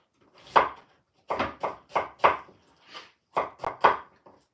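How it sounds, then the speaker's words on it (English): A knife chops an onion on a cutting board for stuffing, with about ten crisp, close strikes in short bursts and a pause partway through. "a loaf of bread, we'll say one onion, bit of chopping, dice this up"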